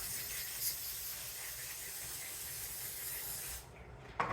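A steady aerosol hiss of cooking spray into a pan runs for several seconds, close and moderately loud, then cuts off abruptly.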